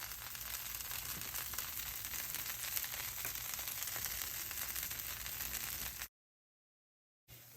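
Palak dosa batter sizzles and crackles in oil on a hot pan, a steady close frying hiss that cuts off abruptly near the end and returns briefly.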